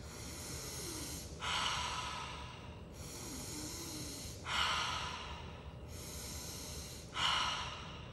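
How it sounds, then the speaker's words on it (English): Breathwork session of slow circular breathing, in through the nose and out through the mouth: three long, steady breath cycles, each ending in a louder, rushing exhale, close and alone with no speech. "switch to a circular breathing in and out, or in through the nose and out through the mouth, also known as alkaline breathing"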